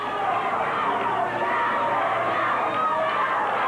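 A 1990 wrestling crowd roars for Sam Houston mid-match, a loud sustained mass of cheering and shouting voices that holds steady with no pause.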